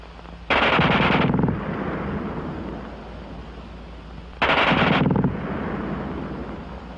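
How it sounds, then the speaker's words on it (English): Two long, very rapid bursts from a German machine gun, each roughly a second, loud and close, with a rumbling wind-blown tail trailing after each burst and no talking. "the German gun fires faster than anything you've run into before"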